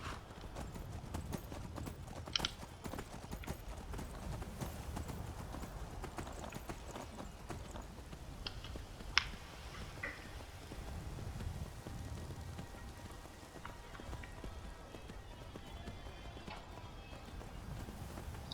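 In the Skyrim video game, a horse's hooves clip-clop in a quick, steady rhythm, fairly faint, over a soft rain-like background hiss with scattered small clicks.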